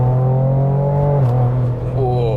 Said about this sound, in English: If you touch the throttle, oh, and then you brake, oh, whoa, the downshift is actually more aggressive than sport even.